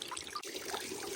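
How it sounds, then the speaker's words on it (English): Cooling water trickles and splashes steadily from a boat engine that was wrecked in a cyclone, with one brief dip partway through, otherwise a continuous, fairly soft flow without speech. "Hooked up. Water running."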